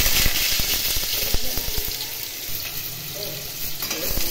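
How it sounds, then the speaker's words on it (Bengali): Potato pieces fry in oil tempered with white cumin seeds, giving a steady close sizzle with scattered crackles and light stirring scrapes throughout, with no voices present. "আলুগুলো একটু ভালো করে ভেজে দিতে হবে।"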